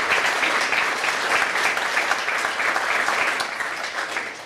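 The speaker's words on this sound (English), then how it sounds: "I'd like to give them a round of applause" An audience at a Hall of Fame induction ceremony claps in a sustained round of applause that holds steady and then eases slightly toward the end.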